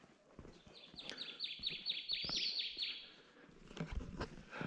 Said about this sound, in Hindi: यहाँ पे चिड़िया की आवाज़ कितनी मधुर है